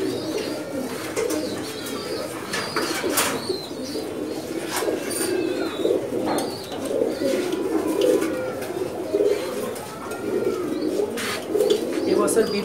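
Crowded breeding-loft pigeons keep up dense, overlapping cooing for a long stretch, with chirps, sharp clicks and a hint of flapping; murmured voices sit faintly in the background.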